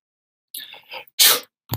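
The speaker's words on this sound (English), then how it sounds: "Someone sneezes." A sharp sneeze bursts out after a short breathy build-up, followed by a brief click; close and fairly loud.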